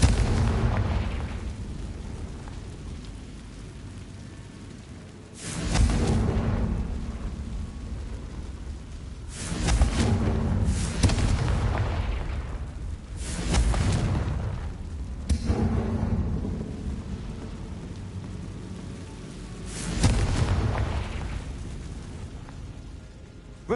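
Fire-blast spell explosions burst in Hogwarts Legacy, about six heavy booms spaced a few seconds apart over a low ambient hum, loud and close with no talk.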